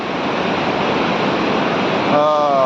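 Loud, steady roar of fast-flowing river water rushing over a dam, continuous broadband rush, with a voice briefly speaking near the end.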